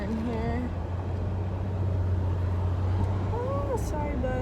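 A bus passing nearby on a city street, a steady low rumble with traffic noise under a person talking inside a car.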